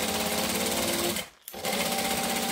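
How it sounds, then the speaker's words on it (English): A sewing machine stitches a bag seam to seam, a loud, rapid, continuous stitching rattle, cut by a short pause before it resumes. "So I'm now going to stitch seam to seam."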